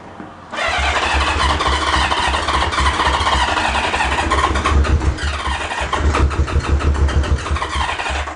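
A Subaru Brat engine cranks on its first start from a barn find, a loud, close starter churning with rapid rhythmic chugging that stutters and strains, with no running catch.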